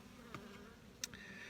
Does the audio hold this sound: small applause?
no